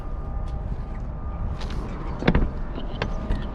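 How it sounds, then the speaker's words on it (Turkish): A BMW 7 Series door with vacuum soft-close pulls itself shut, a brief mechanical clunk and latch heard close up over low background hum and faint movement sounds. "Vakumlu kapılar. Düzgün kapatamadım. O hemen kendini hallediyor."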